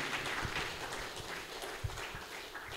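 Applause from an audience at an anniversary ceremony and meditation programme: many hands clapping in a steady, dense wash that holds at an even level from start to finish.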